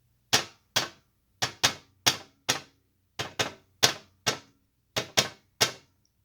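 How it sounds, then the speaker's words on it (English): Repeated sharp metallic strikes on a clean metal cooking rack with grooves, thirteen close, ringing hits in uneven groups of two and three, loud and alone with no talk. "go ahead, Bruce, bang on the metal rack"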